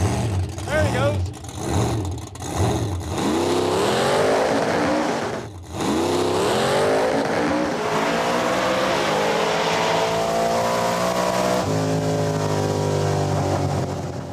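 A 1000+ horsepower Pro Street Nova makes a drag racing pass, its engine roaring loud and close and climbing through revs with a gear shift partway, under crowd and commentary noise.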